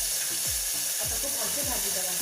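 Ginger garlic paste fries in hot oil with cumin seeds in a pan for a mixed vegetable curry, giving a loud, steady close sizzle with occasional stirring scrapes.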